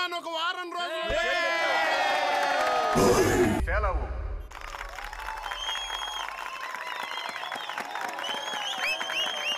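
A film crowd claps and cheers loudly and steadily for a few seconds, then the applause drops off while voices and background sounds carry on.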